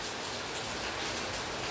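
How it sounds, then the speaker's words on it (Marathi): Steady rain falls outdoors during the season's first rain, a soft, even hiss of drops with no pauses throughout. "बाहेर मस्त पाऊस पडतो."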